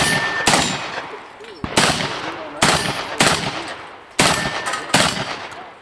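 Rapid gunfire on a 3-gun shooting competition course of fire, loud and close, arriving in about six separate bursts of shots with short pauses between them.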